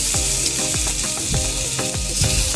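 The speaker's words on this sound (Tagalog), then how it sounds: "gisa na natin ang bawang" Garlic sautés in hot oil in a pan with a steady, loud sizzle that runs throughout, with faint scraping and stirring ticks on top.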